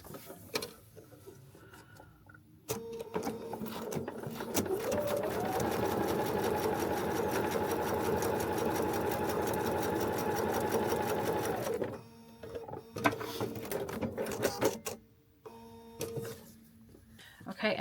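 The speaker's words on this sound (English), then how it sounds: "So we're going to go ahead and sew this on." A sewing machine stitches foundation paper-pieced fabric onto a feathered star quilt block, running as a steady, close mechanical whir for about nine seconds, with brief start-and-stop bursts before and after and little talk.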